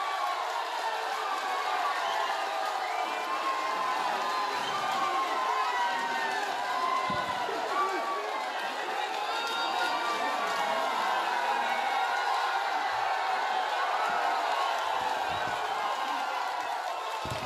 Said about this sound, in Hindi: एक बार जोरदार तालियों से चौधरी मामन खान जी को